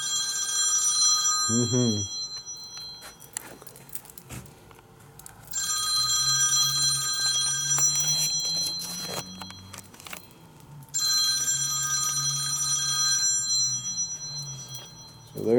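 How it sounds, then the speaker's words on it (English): An old telephone bell rings in repeated bursts in the background of a Harley-Davidson dealer showroom, three long rings spaced a few seconds apart, with a man briefly murmuring between them. "I don't know what's up with that phone in the background"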